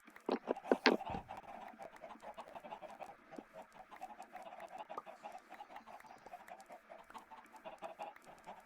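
Chickens cluck in the Minecraft video game, with a burst of louder squawks near the start followed by a steady stream of quieter, overlapping clucks.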